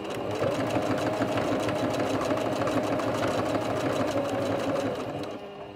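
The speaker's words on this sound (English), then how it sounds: "I'm just going to ras this through the machine" A sewing machine stitches along the edge of a fabric drawstring wash bag, a fast, even rattling whir of rapid needle strokes running continuously and close before slowing and fading at the end.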